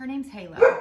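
An English cream retriever named Halo gives a single short bark close by, right after a woman's brief spoken remark.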